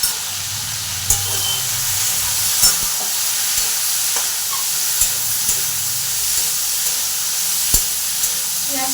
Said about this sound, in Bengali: পেঁয়াজটা একটু ভালো করে আমি ভেজে নিচ্ছি।